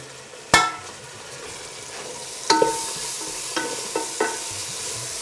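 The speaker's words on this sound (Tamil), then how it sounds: "வெங்காயம் தக்காளி எல்லாம் நல்லா ஃப்ரை ஆகிடுச்சு" Onions and tomatoes fry in a pan for a country chicken kuzhambu, with a soft sizzle under several sharp clinks of a spoon stirring against the pan.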